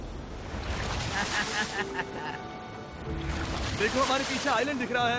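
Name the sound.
large ocean wave crashing in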